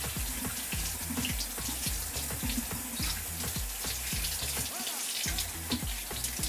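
A kitchen tap runs steadily while live blue crabs are rinsed under it, a constant close splashing rush with rhythmic patters as the water hits the shells.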